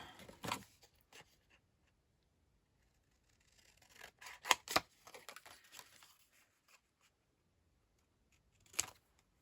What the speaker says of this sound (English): Need some scissors.